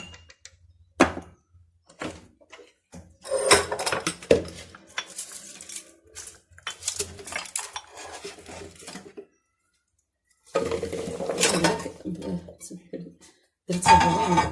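Chopped vegetables tossed and stirred in a basin for a Moroccan preserved-lemon and marinated-vegetable dish, with clattering knocks and scraping of utensil against the container in bursts, interrupted by pauses and talk.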